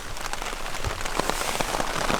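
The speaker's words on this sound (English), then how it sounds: "this dang rain." Heavy rain in a storm on a hiking trail in Utah, a steady dense hiss of drops beating on surfaces close by, continuous throughout with scattered sharper spatters.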